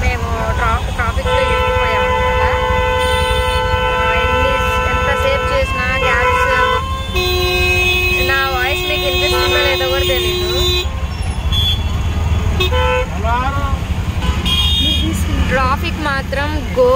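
Car horns honk repeatedly in heavy, stalled evening traffic in Hyderabad, with sustained and overlapping toots over a constant engine and road rumble as people talk nearby.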